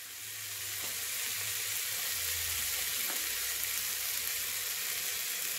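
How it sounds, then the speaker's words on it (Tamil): Onion and tomato sizzle steadily while sautéing in a pan for Kovai-style rice and dal, a continuous close frying hiss with a couple of faint stirring clicks and no talking. "வெங்காயம் தக்காளி வதங்கிடுச்சு."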